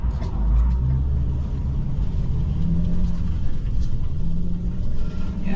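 An E450 RV rolls along a road with a low, continuous engine and tire rumble, a heavier thump and surge marking the passage over a bump, heard from inside the cabin.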